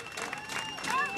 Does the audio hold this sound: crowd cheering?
yes